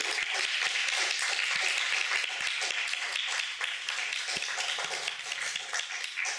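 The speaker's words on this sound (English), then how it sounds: "And another round of applause" An audience at an artist talk gives another round of applause, many hands clapping steadily with some individual claps standing out sharply, tapering slightly toward the end.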